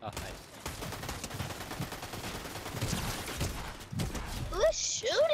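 Rapid bursts of gunfire in a Fortnite Season 3 match crackle as a dense stream of shots, mixed with other game sounds, while players talk over it.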